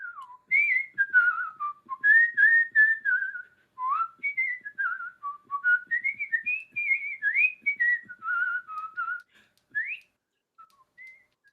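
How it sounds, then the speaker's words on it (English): A person whistles a wandering melody alone, clear and fairly close, with short phrases separated by brief pauses. "you could hear that man a whistling pretty nigh a mile away"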